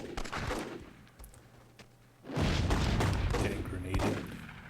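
Gunfire and combat in the strategy video game Myth II: Soulblighter, with dense rattling shots and blasts that quieten briefly, then swell into a louder, sustained barrage of overlapping bursts.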